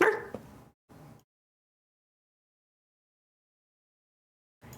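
A person imitates a dog barking with their own voice, giving two short yapping bursts close to the mic, followed by silence.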